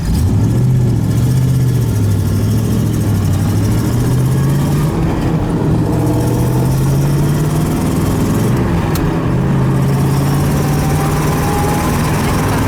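A 1969 Corvette C3 big-block V8 idles steadily and loudly up close, its low rumble holding an even, smooth beat with slight rises in pitch as it runs.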